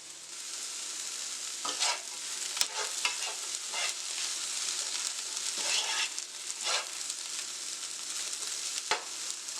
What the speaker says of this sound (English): Allowing the okra to saute